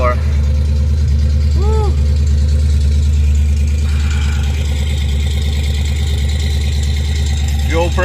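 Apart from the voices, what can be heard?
Ford Mustang Fox Body engine starting and idling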